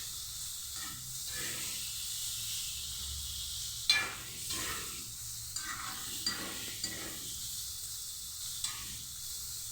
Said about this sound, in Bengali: এখন এটাকে ভালো করে আমি ভেজে নেব।